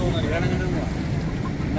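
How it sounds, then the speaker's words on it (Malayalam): A tour boat pulling away on the Rhine near the Rhine Falls in Switzerland: a steady low engine rumble with water noise, continuous, while people talk nearby. "ഇതാ നമ്മുടെ ബോട്ട് എടുത്തു."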